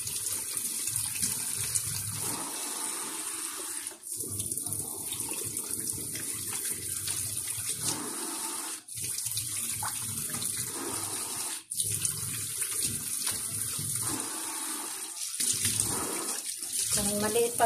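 Water poured onto a Scotch-Brite scrub pad, a continuous splashing, running stream lasting many seconds with a few brief breaks, close and fairly loud.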